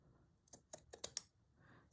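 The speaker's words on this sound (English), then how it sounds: "Let's get some scissors." Scissors snip antique fabric in a few quick, sharp, faint clicks close together, with quiet surroundings.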